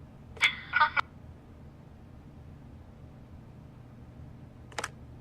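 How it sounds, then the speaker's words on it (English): Short electronic phone ring in The Wolf Among Us, one brief burst near the start, then quiet, then a second faint short chirp near the end; no voices. "Phone rings off the hook sometimes."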